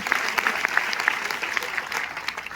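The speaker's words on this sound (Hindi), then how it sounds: "एक बार दोस्तों उसके लिए जोरदार तालियां होनी चाहिए दोस्तों" A crowd at a business program in Bilaspur gives loud applause, steady clapping with a few sharp claps standing out.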